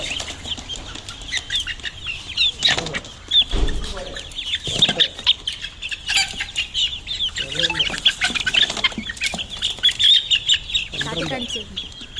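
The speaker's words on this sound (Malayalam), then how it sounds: "അപ്പം നമ്മുടെ കോഴിക്കുഞ്ഞുങ്ങളൊക്കെ വന്നിട്ടുണ്ട്." Newly arrived baby chicks being placed in their brooder, a constant chorus of high peeping with bursts of wing flapping and scuffling nearby, while a person talks intermittently over it.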